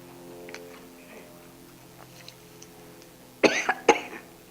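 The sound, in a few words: cough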